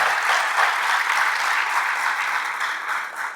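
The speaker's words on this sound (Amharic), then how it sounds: "ሞቅ ያለ ጭብጨባ ይገባል።" An audience at a business training event breaks into warm, sustained applause, a dense, even clapping that stays loud throughout and then tapers slightly at the end.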